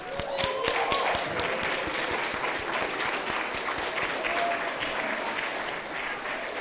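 At a school awards gathering honoring the winners' parents, an audience gives a big, steady round of applause, sharp claps prominent early, with faint voices and a brief whistle-like tone in the mix.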